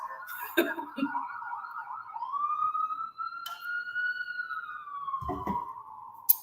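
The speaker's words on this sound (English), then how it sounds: "You might hear some police sirens." A police siren wails steadily through the whole stretch, rising and holding in a long sustained tone, with faint city traffic noise around it.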